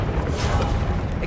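A fire spell cast in the Hogwarts Legacy video game, giving a dense, roaring burst of low rumble and crackling noise that holds steady and loud throughout, with no pause or decay.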